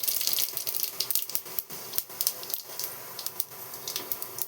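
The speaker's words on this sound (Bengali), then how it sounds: "পাঁচফোড়নটা দিয়ে দিচ্ছি তেলে।" Panch phoron whole spices hit hot mustard oil in a heated pan, crackling and spitting in quick irregular pops over a soft continuous sizzle, with no talking.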